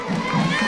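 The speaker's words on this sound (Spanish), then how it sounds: "El aplauso de todo el público" Applause and cheering from a crowd lining a school parade route, welcoming a marching band. The sound is a dense, steady wash of clapping and voices at a moderate level.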